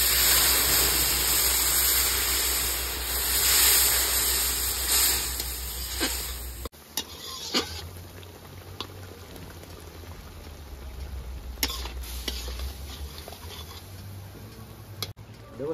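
Water boiling in a pan for macaroni pasta, a continuous bubbling hiss with a low hum that changes partway through, followed by lighter spattering and a few clicks.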